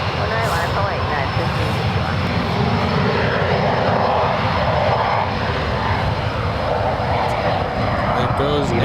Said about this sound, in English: There goes a Gulfstream 150.